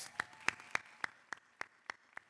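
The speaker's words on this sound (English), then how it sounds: "I would like to give y'all a round of applause too" Eight slow, evenly spaced hand claps at a Sankofa celebration, sharp and fairly close, each ringing briefly in a reverberant room, from a single person or a very small group rather than a full crowd.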